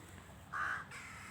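A single crow gives one short, fairly faint caw outdoors in the early morning, set against quiet background hiss.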